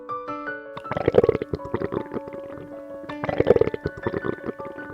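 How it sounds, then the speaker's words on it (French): Stomach rumbling as a story sound effect, two long gurgling growls with bubbly churning bursts, close and loud with no voice over them. "C'est son ventre qui gargouille."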